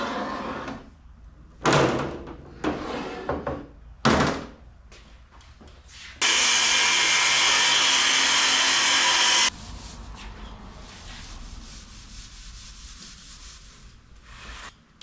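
Power grinder smoothing down high spots on a pop-up camper roof before ACM panels go on, a continuous loud rough grinding burst of several seconds set between scraping and handling noises.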